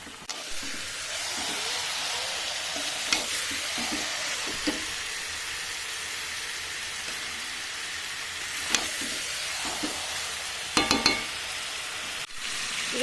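Spiced meat with salt and turmeric sizzles in a pan on a gas stove under a continuous, even hiss, with occasional sharp scrapes and clinks as it is stirred.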